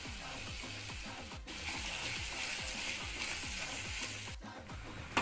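Ginger garlic paste fries in hot oil with mustard seeds in a pan for prawn thokku, giving a steady, close hiss and crackle with fast repeated clicks and a brief louder clatter at the very end.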